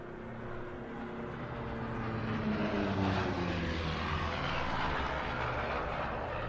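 Piston-engine propeller aircraft at an airshow practice, formerly in American service and later with the Argentine Navy, drones steadily overhead, its engine roar swelling slightly as it passes, fairly loud and continuous, with no voices.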